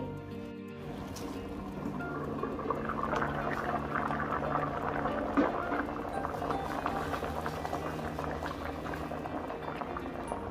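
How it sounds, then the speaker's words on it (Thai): Herbal remedy brew boiling in a covered pot, a steady rolling bubble and churn that holds loud and even throughout, with no voices. "ต้มง่ายๆเลยนะคะทุกคนเสร็จแล้วก็รอให้เดือดนะคะ"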